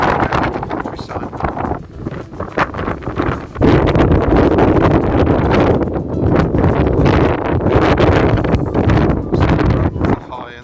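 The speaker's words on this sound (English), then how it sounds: "the wind today is quite strong" Strong wind buffeting the microphone at Kenilworth Castle, loud and gusty rumbling throughout, with a voice talking underneath.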